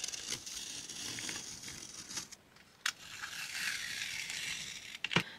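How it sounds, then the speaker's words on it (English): An X-Acto knife trims excess 3M adhesive film off an acrylic sheet, giving soft scraping and tearing rasps with a few sharp crinkling snaps, close and quiet, with no talking. "you can cut off the excess with your X-Acto knife"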